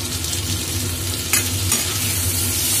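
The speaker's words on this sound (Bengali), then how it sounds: "টমেটো কুচি দিয়ে ভালো করে এটাকে আবার তেলের উপর নাড়তে হবে।" Chopped tomato fries in hot oil and is stirred, giving a steady dense sizzle with a couple of sharp scrapes of the spoon against the pan, close and loud, with no talking.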